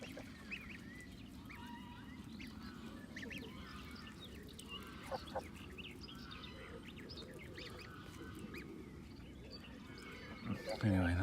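Geese and ducks honk and quack intermittently near a lake, scattered calls at a moderate distance over a low background rumble, with a person speaking nearby.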